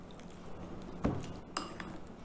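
Spoon scraping and clinking in a bowl while date and walnut filling is mixed, two firmer knocks standing out above a low steady scrape.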